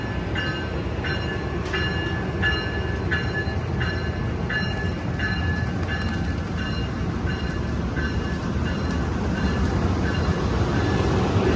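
Amtrak Capitol Corridor train 532 at Richmond station, California, led by locomotive 8307, rumbling steadily past up close with regular clickety-clack wheel beats over rail joints and a continuous loud low roar.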